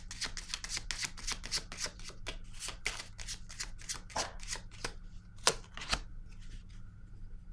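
Tarot cards being shuffled by hand, a quick run of crisp riffling flicks and slaps close by over a low steady hum, with no talk.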